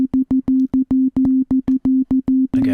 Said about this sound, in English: Again, we're playing that sine wave.